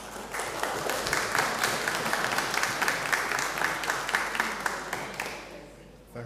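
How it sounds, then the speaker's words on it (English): A restrained round of applause from a Salvation Army Sunday worship congregation in Gloucester, steady clapping for about five seconds that tapers off at the end. "Very quiet round of applause"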